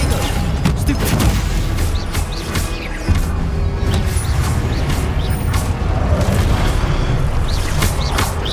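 Spell blasts fire off in Hogwarts Legacy, a dense, loud barrage of booming impacts and crackling bursts that overlap continuously with no pauses.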